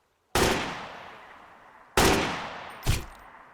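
Turret fire in the survival game Sunkenland: three heavy, booming shots with long echoing decays, the first two spaced well apart and the third coming quickly after. No voices are heard.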